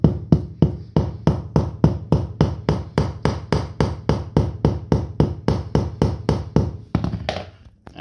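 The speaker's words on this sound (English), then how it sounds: "Hit it with a hammer a couple times." A hammer strikes a floor gap-fixing tool held by suction cups on a floor, delivering about two dozen sharp, evenly spaced taps at a brisk steady rhythm, close and loud, slowing to a stop near the end.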